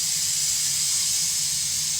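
Steam hissing steadily out of a pressure cooker's jiggler valve while green beans cook, a loud continuous bright hiss with no break and no talk.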